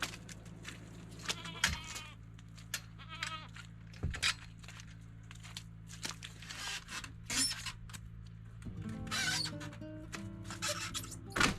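Several goats bleat in short, wavering calls, some close and some farther off, over a steady low hum with occasional clatter.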